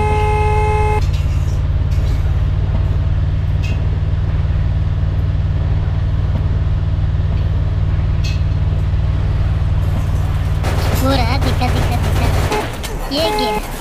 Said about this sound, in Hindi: इतनी हॉर्न मार रहा हूँ